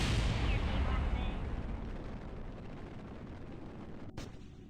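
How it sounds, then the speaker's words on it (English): Fuel tanks jettison from a craft in Kerbal Space Program, starting with a deep rumbling burst that slowly fades over several seconds and ending in a brief sharp click. "Jettison these tanks."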